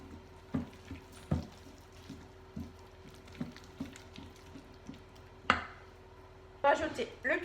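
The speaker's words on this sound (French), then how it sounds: "Vous remuez le tout." Cake batter with vegetables is stirred in a bowl, giving irregular scraping knocks and taps and a wetter, busier stir near the end, at low volume.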